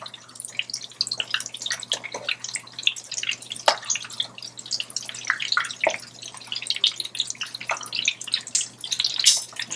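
Turkey croquettes sizzle and spit in a sauté pan, a dense run of close crackles and sharp pops carrying steadily with no one speaking.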